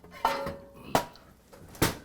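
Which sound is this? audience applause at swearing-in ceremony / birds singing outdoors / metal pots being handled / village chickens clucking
metal pots being handled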